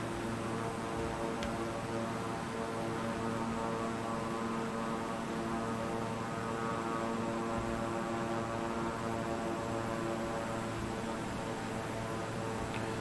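Steady propeller-plane engine drone from a flight video game, a continuous even hum with a faint hiss, holding constant throughout with no talking.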